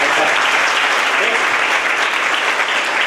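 An audience at a women's college motivation and career guidance event gives a big round of steady, loud, continuous applause with no talk over it.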